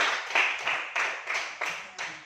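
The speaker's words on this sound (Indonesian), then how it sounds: "Beri tepuk tangan untuk mereka." Schoolchildren in a third-grade classroom clap together in a rhythmic pattern of about six sharp, evenly spaced bursts, close and moderately loud, each hit decaying quickly before the next.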